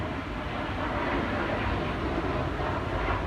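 An airplane passes low and close overhead, a loud, steady broadband roar that stays constant throughout with no talk over it.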